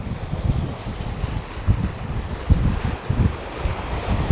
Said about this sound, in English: And very, very windy here.